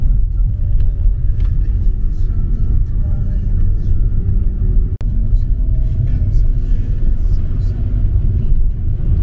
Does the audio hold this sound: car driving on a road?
yes